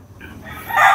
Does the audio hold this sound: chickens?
yes